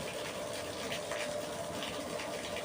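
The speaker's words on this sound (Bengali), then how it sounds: "চলো এবার দেখাই তোমাদেরকে যে কতটা আয়রন জল বেরোচ্ছে এই দেখো দেখতে পাচ্ছ" Iron-rich water gushes steadily out of a household tap, producing a loud, continuous rushing and splashing wash of water that stays constant and close throughout.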